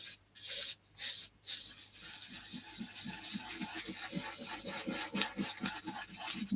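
Glitter is rubbed by hand into a craft surface in a steady back-and-forth scrubbing rhythm, close up, after a few brief louder rubs, with no voices.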